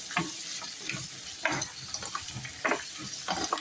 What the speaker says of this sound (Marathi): अगोदर आपण वाटाण्याला थोडंसं परतून घेऊयात